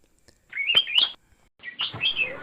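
Golden bulbul (kutilang emas) song: two bright, warbling whistled phrases close by, each under a second, separated by a short pause, with no other sounds.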